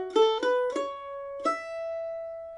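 A mandolin plays a short Monroe's Hornpipe phrase without its slide, three quick plucked notes followed by a held note that rings out, solo and close with no talking.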